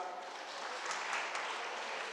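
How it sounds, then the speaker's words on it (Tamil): Students clapping together at a literary festival gathering, a continuous even wash of applause, soft and somewhat distant. "மாணவர்கள் ஒரு முறை உற்சாகமா கைதட்டுங்க பார்க்கலாம்."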